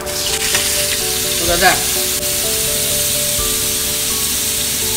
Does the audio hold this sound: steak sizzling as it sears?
yes